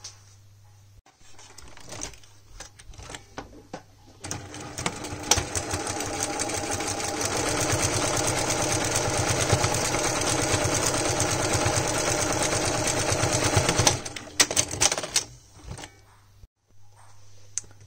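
A sewing machine runs a straight stitch along a seam 0.5 cm from the fabric edge, a steady close whirring hum lasting about ten seconds, framed by brief handling clicks before and after.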